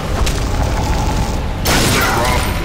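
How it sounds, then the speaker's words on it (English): Bone gun shotgun firing in the video game Painkiller: Overdose, a dense booming blast with a sharp loud burst partway through, heavy and overbearing against a continuous rumbling game background. "the shot sound is a little overbearing after a while"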